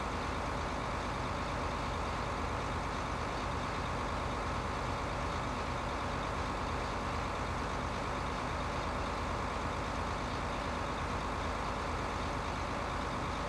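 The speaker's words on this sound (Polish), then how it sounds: "Ursus, jak widać, kosi bardzo szybko." An Ursus tractor mowing in Farming Simulator 15 gives a steady, unbroken engine drone at constant load, loud and close throughout with no talking.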